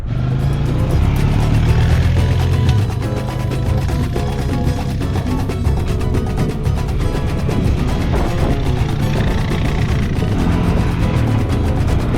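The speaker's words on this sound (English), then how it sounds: "back on the quad bike and off to the next stop" A quad bike is ridden in Jericoacoara, Brazil. Its loud, close engine drones steadily for the whole stretch, with slight rises and falls in pitch and no talk.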